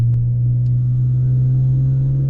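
Inside the cabin of a 195k-mile BMW E46 M3 while driving, a loud, constant low droning hum holds steady throughout, unbroken by speech.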